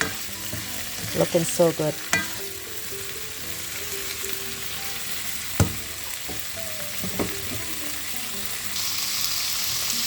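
Chicken stir fry with mushroom sizzles steadily in a hot pan, with a few sharp clinks and scrapes of stirring scattered through; a voice speaks briefly near the start.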